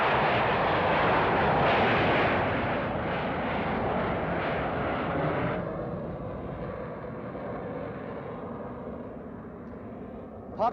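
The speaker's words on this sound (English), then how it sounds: "Parked here in the perimeter of Lisbon Airport, you can watch the tourist planes come and go." Airliners land and take off at Lisbon Airport in 1968, heard from the airport perimeter. A broad, roaring jet rush is loudest early, then slowly fades and thins into a softer, distant drone.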